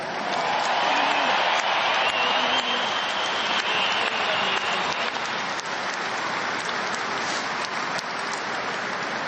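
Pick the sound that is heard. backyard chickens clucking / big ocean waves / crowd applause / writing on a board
crowd applause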